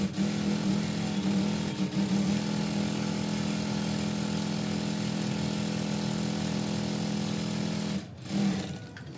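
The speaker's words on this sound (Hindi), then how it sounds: "और आप यहाँ पे भी इसे स्टिच कर लेंगे।" A sewing machine stitches ankle-length pant fabric in a steady, loud mechanical whir that runs without a break, then briefly stops and starts again near the end.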